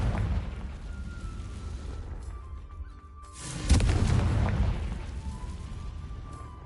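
A Confringo fire spell blast in Hogwarts Legacy, a steady rumbling battle din that swells into a loud booming burst around the midpoint and rolls on as a heavy roar.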